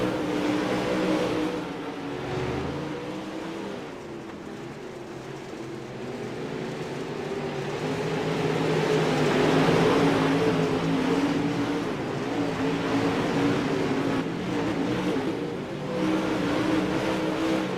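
Dirt Pro Late Model race cars roar around the Lernerville track in a championship-night main event, a steady distant engine drone that swells and fades as the pack passes.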